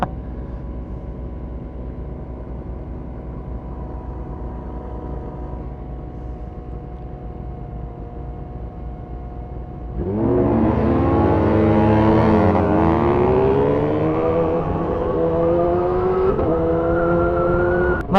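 On a dark road in Bali at night, a low steady engine drone gives way to loud, close vehicles revving hard, their rising and falling engine notes sweeping past one after another.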